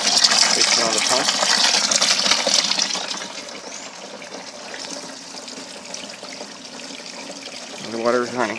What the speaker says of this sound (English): And the water is running.